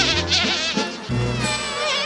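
Bees buzzing in a continuous, close, steady drone with shifting pitch, alone with no voices over it.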